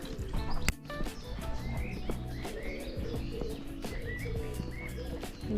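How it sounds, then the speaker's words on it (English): Robins chirp by a riverside path on a walk near Wylam, with short bird calls scattered through a steady outdoor background. The calls come at moderate distance amid light ambient noise, with a few faint thumps and rustles. "Robins are so friendly sometimes, just not shy at all."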